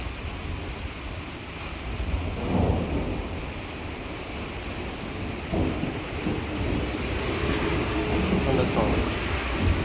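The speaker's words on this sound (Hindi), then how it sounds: "थंडरस्टॉर्म है।" A thunderstorm with heavy rain rolls over a cloud-covered valley in the Murree Hills near Bhurban, Pakistan, with steady rain hiss and several deep thunder rumbles, and a voice now and then.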